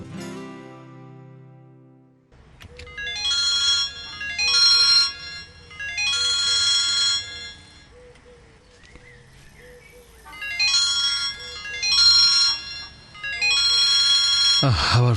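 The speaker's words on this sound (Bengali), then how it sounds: "আবার ফোন।" A telephone rings in a Bengali radio drama, sounding as repeated electronic ringtone bursts in two clusters separated by a pause, fairly loud and close, with a voice speaking between the rings.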